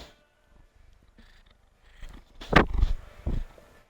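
A house cat purrs up close, beginning as a quiet rumble and swelling into louder bursts with a couple of throaty, chirping vocal sounds near the end.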